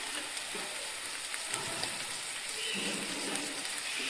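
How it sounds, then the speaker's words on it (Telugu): Curry seasoned with chili powder and garam masala frying in a pan for a village-style dried anchovy and bottle gourd dish gives a steady, close sizzle with soft stirring scrapes throughout. "బాగా ఫ్రై అయ్యాయి కదండి"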